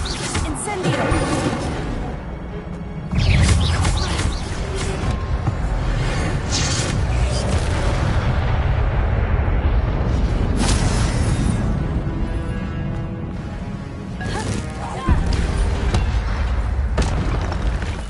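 A fire spell cast in the Hogwarts Legacy video game erupts as a loud, sustained whooshing burst of flame with booming impacts, running continuously with a surge near the start and another late on.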